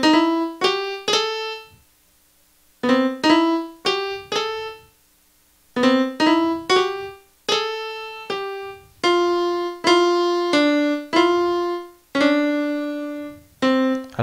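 Melodic line of single notes embellished with chromatic and diatonic passing notes, played in short phrases with brief pauses between them, each note clear with sustained harmonics, no talking.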